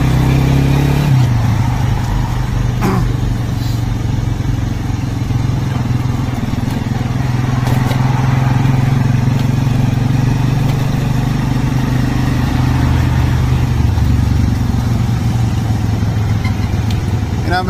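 A motorcycle rides through city streets, its engine droning steadily and loudly up close, with road rumble and occasional light clatter throughout.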